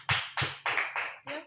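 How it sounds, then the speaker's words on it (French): A church congregation claps for the Lord, sounding as five loud, separate bursts of hand claps about a third of a second apart, each a short ragged cluster of many hands. "Applaudissez pour le Seigneur."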